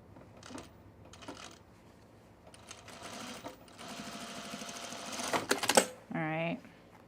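A sewing machine stitching overalls runs in short bursts, then in a longer, faster stretch, followed by a brief mechanical whir. Someone speaks in between the bursts.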